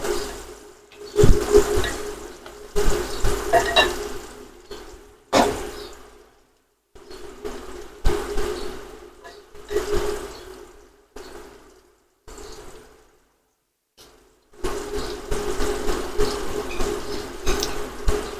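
Water gushes in uneven bursts with short silent gaps, like a tap or pipe being run at a home garden where spinach, coriander and other seeds were just sown, loud and close without any speech.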